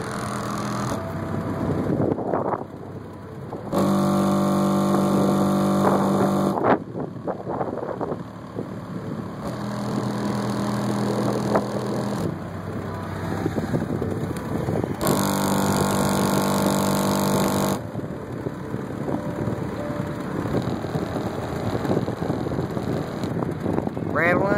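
Heavy bass from a car audio system in a Neon rattles the car's panels, booming loudly in repeated surges of several seconds over a rumbling, windy cabin background.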